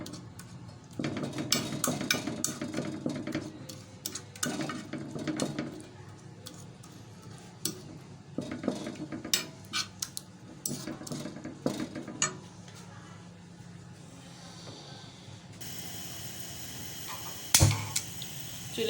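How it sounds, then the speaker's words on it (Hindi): Garlic and tomato being mashed together for a spicy tawwa chutney, heard as repeated soft pressing and scraping knocks in an uneven rhythm, close up, with no talk and a sharp clatter near the end. "लहसुन और टमाटर को यहाँ पे हम यकजा कर लेंगे, मैश कर लेंगे।"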